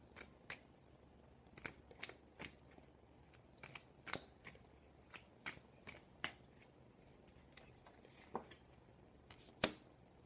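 Tarot cards are shuffled by hand in a quiet room, giving a series of crisp, close riffling and snapping bursts at an uneven pace, with one sharper slap near the end and no talking.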